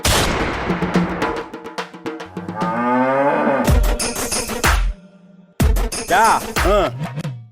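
Drawn-out, cow-like mooing calls from a mimicking parrot come in several bursts, broken up by sharp gunshot bangs and a brief pause in the middle.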